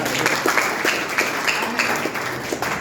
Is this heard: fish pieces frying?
no